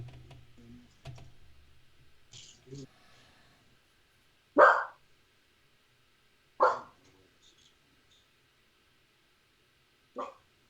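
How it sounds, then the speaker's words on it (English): A dog sound effect in a tabletop role-playing session, three separate sharp barks spaced a couple of seconds apart, with people talking quietly before them. "Ghost dog."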